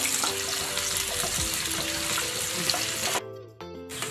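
Chopped half onion sautés in about two tablespoons of oil in a pan, a soft continuous sizzle with light stirring that cuts off abruptly near the end.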